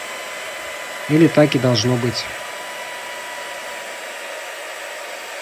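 Cooling fan of a server power supply whirring steadily throughout as a continuous broadband hiss, with a brief stretch of talk over it partway through.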